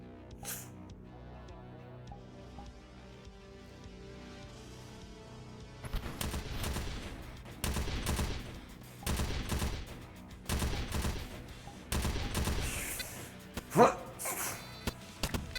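Rapid gunfire rattles in VRChat as a player shoots at turrets, coming in several loud bursts of quick shots after a quieter opening with faint background noise.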